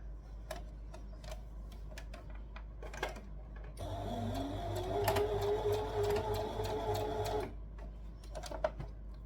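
Sewing machine stitching the tucked-under armhole of a tee, a steady whirring run of a few seconds between quieter handling clicks and taps, fairly close.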